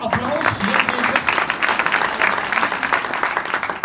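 An audience claps energetically for young singers at a Christmas carol performance, the applause steady and close, with a few voices mixed in beneath the clapping.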